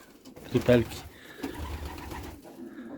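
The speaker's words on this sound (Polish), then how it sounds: "Mam gołębie." Soft pigeon cooing rises briefly near the start, with faint rustling and low background noise through the rest.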